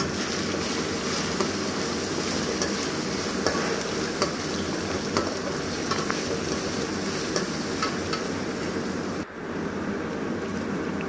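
Peanuts fry in a pan for poha with a steady, dense sizzle that holds at the same level for the whole stretch, close and loud, with no talk.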